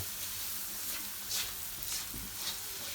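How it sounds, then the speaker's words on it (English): Curry sizzling and frying in a pan before seafood goes in, a steady soft hiss with faint stirring scrapes, heard alone and fairly quiet. "So you want to brown off your curry before you put in your seafood."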